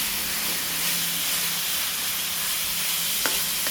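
Ground chicken breast sautéing in a small amount of oil for chicken guisado, a loud, continuous close hiss and sizzle with a single brief clink of a utensil near the end.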